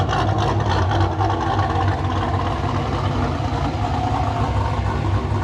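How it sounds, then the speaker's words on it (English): A Pontiac GTO with rolled fenders and new wheels, out on a test drive, making a loud, steady engine and road drone heard from inside the car, continuous throughout with no speech. "I'm gonna go ahead and take this thing for a ride."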